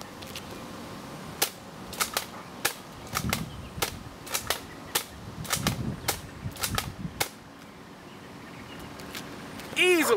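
A Nerf Strongarm blaster fires blue Elite darts in a quick series of sharp snapping shots, about a dozen spaced close together, loud and near with no talking.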